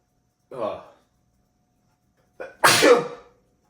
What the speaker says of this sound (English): and I just sneezed